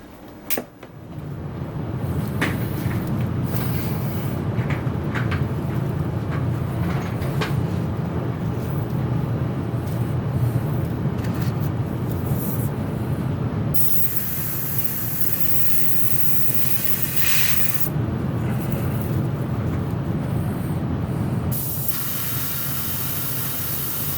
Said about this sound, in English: Airbrush is set to 20 pounds. And, gotta get the fan going.